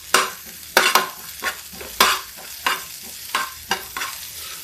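Curry leaves dropped into hot tadka oil for chana dal fry, sizzling and crackling in short bursts with repeated stirring strokes, close and fairly quiet, no voices.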